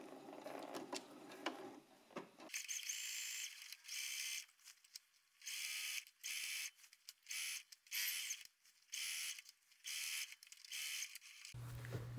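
Bursts of a domestic sewing machine stitching the second side seam of a jacket, running in about eight short stop-start runs of a second or so each, close and clear with quiet gaps between.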